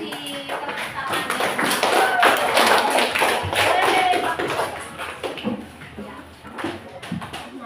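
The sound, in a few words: classroom applause, clapping hands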